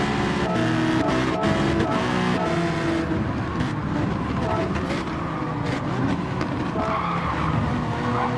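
A race car skids as it spins out in Gran Turismo 7, with tires squealing over loud engine noise throughout.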